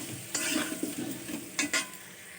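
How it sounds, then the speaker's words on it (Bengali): Potato pieces seasoned with turmeric and salt frying in a pan while being stirred, a close sizzle punctuated by a few quick scraping stirs and clinks of a spoon. "আলুগুলো একটু ভাজা ভাজা করে নেব"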